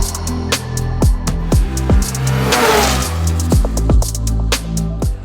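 An Arctic Cat RXC 858 snowmobile engine revs repeatedly, each sharp throttle blip rising and falling in a rhythmic series of loud, close bursts with no talk.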